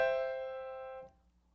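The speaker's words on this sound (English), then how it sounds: "the chord we spelled is the B fully diminished 7" A B fully diminished seventh chord sounds once as a single sustained instrumental chord, fairly loud and clear, then decays and cuts off after about a second, leaving near silence.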